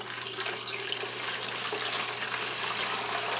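Household vinegar pours in a steady stream into a plastic bucket holding gun parts, a continuous close splashing gush with a faint low hum underneath.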